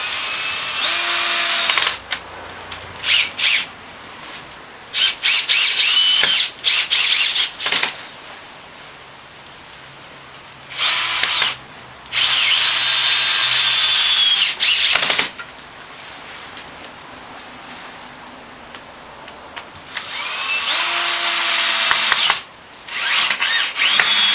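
A power drill drives 35mm Phillips-head screws during furniture assembly, sounding in several loud, steady whirring bursts of a few seconds each, separated by short pauses, with no talking.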